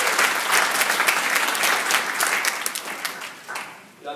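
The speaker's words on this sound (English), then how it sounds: "let's give Megan a nice round of applause" A room full of people claps steadily for several seconds in a casual talk setting, a dense close patter of hands that thins and fades toward the end.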